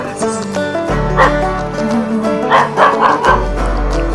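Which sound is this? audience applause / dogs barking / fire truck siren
dogs barking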